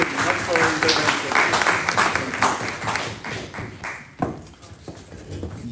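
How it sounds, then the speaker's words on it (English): An audience applauds at a conference session, a dense sustained patter of clapping that gradually thins and fades, with a voice talking over it. "A big applaud for Najat"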